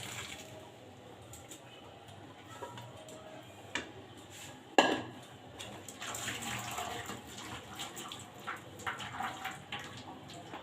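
Boiled macaroni for a chicken macaroni dish tipped into a basket to drain, with a sharp clatter followed by a steady rush of draining water, close and moderately loud with no talking.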